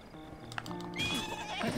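A horse in Breath of the Wild whinnies loudly and close, its high wavering neigh rising over a background of game music with faint hoof clatter.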